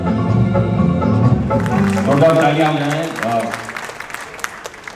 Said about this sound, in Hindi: जोरदार तालियां हैं शुभा के लिए।